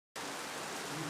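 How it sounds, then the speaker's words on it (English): Steady, dense hiss of rain falling that begins abruptly after a brief silence and holds evenly, close and fairly loud, with no voices. "It's raining."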